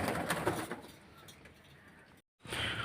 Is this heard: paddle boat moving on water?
no